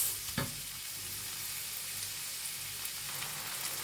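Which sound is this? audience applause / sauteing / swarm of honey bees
sauteing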